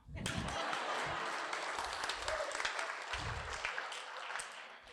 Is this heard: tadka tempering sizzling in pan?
no